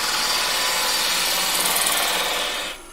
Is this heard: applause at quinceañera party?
no